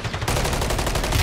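Rapid automatic gunfire in Call of Duty Warzone, a brief loud, dense burst of fast, evenly spaced shots close up.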